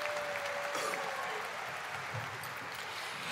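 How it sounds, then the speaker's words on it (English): A graduation ceremony audience gives a moderate, continuous round of applause for senior singers, the clapping filling the hall evenly for a few seconds with a faint voice briefly audible underneath. "Yes, you can applaud one more time"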